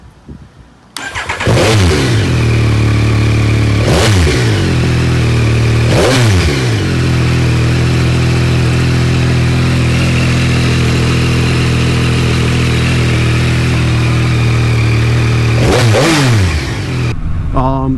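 A motorcycle with a TFT dash fires up and settles into a loud, close idle, with several sharp throttle blips breaking the steady rumble.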